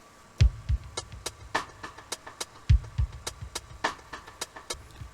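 Synthesized drums on a Korg wavestate play a steady pattern from Donkey Kong Country, deep thumping kicks and crisp clicking hits, moderately loud with no voices.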